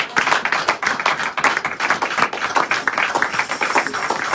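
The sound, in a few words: congregation clapping and acclaiming Jesus in church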